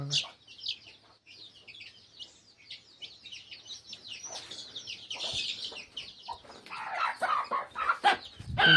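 Free-range village chickens and chicks on a rural poultry farm cluck and cheep steadily in a busy, overlapping chorus that grows louder and denser toward the end.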